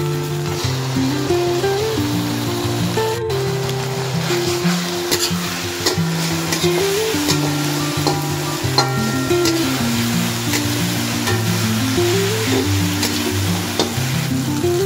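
Spice paste hits hot oil in a wood-smoke-fired pot for mutton kolhapuri, sizzling and crackling steadily for the whole stretch with a sharp click near the start, no voices over it.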